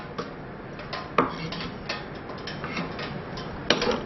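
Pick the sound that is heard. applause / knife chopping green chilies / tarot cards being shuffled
knife chopping green chilies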